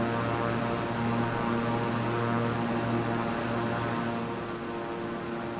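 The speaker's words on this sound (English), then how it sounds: "I apologize if the plane noise was too loud earlier" Steady, loud propeller-airplane engine drone in a flight simulator game, a continuous hum with strong tonal layers, unbroken throughout and fading slightly near the end.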